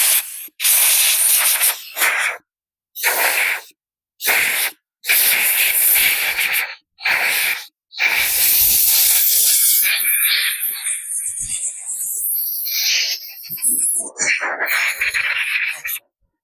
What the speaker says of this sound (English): let's blow all the junk out of it.